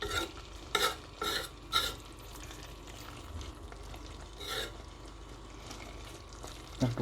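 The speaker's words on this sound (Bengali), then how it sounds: "দেখোক আমার কলিজা বুনা" Beef liver is stir-fried in a pan, with a quiet, steady sizzle under a few sharp scrapes and clinks of a spatula stirring against the pan.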